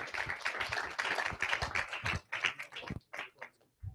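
Sparse clapping from a small audience at a Portland NORML membership meeting, as a winner comes up for a DFW NORML hoodie prize; a few hands tapping unevenly, close and moderately quiet, with gaps between bursts.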